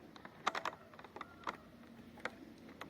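Sparse, quiet keystrokes on a computer keyboard, a few clicks spaced irregularly over a low background hum, with no voice.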